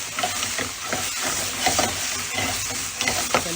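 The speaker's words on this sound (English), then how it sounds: "And then I like to deglaze with a little bit of balsamic vinegar." Balsamic vinegar sizzles hard as it deglazes a hot pan, a steady loud hiss and crackle with a few stirring scrapes, heard alone without voices.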